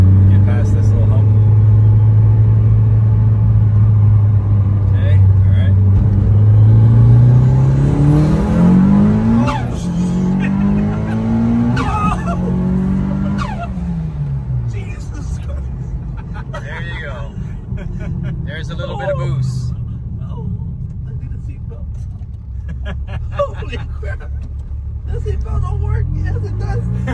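Mitsubishi EVO 8 with a 4G63 engine accelerating hard on a road, its loud engine note rising steadily through the revs, then tires squealing and the engine droning on, with people talking over it throughout.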